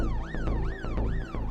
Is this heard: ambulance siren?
yes